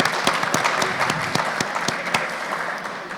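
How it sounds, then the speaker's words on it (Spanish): Audience applause at a live comic podcast recording in Barcelona, a dense steady patter of many hands with a few sharper claps standing out, sustained at full strength throughout with no voices. "Un aplauso, por favor."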